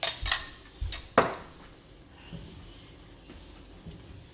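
Spaghetti squash being mixed with a truffle mushroom tomato sauce, a few sharp clinks of a utensil against a dish at the start, then quieter soft scraping and stirring, with no talking.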